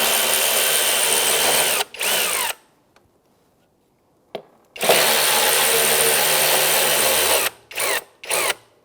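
A power drill or driver with an 8mm deep socket backs bolts out of the airbox cover on a 2012-2019 Fiat 500 1.4L, running in loud sustained bursts. The bursts are split by a short pause, and a few brief spurts come near the end.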